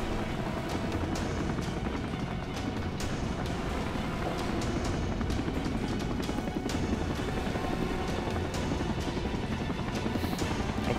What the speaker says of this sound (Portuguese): Demora um tempo pro helicóptero vir.